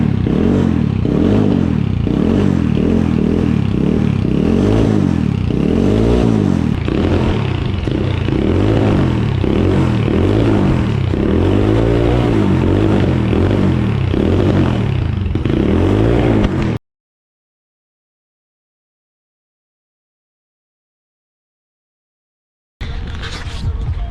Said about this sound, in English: So right now I'll start up the Apollo and give you a before sound so we can see the difference between factory and this